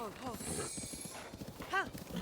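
A horse in the video game Breath of the Wild clip-clops steadily at close range, with a brief neigh near the end. Someone talks over the hoofbeats.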